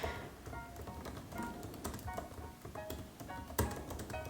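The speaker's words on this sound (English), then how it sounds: "So let me just type something out." Rapid, uneven clicks and taps of typing on a Mac keyboard, close and fairly quiet, with a few heavier keystrokes in between and no talking.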